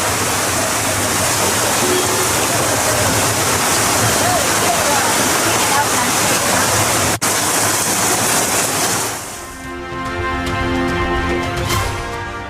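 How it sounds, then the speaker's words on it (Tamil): Heavy rainwater pours like a waterfall down the hill steps of Palani hill during a heavy rainstorm with strong wind, a loud, constant rushing roar that continues for most of the clip, then drops to a thinner, more broken splashing near the end. "பழனி மலை மேலிருந்து அருவி போல படிப்பாதையில் கொட்டிய மழை நீர்."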